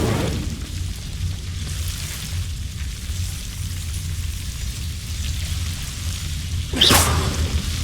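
Incendio fire spell cast in Hogwarts Legacy: a sudden bright whooshing burst near the end, loud and brief, rising out of a steady low rumbling ambience.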